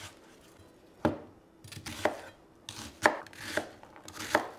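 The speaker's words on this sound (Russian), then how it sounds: "нарезаю одну крупную луковицу весом 300 граммов" A large onion of about 300 grams being chopped with a knife, giving several sharp, distinct chops at uneven intervals, close and clear, with no talking.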